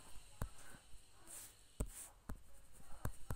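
A pen writes on paper in a quiet room, with soft scratchy strokes and a few sharper taps spaced irregularly, close and faint, and no one talking.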